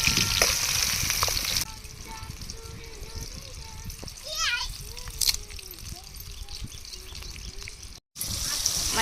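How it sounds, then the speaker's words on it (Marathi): Onion and green chillies fry in hot oil at an outdoor riverside cook-up. A loud sizzle at the start drops to a softer fry while people talk over it nearby, and the sizzle surges again near the end. "तेल मस्त पैकी तापले बघा. कांदा मिरच्या घेतल्यात टाकून."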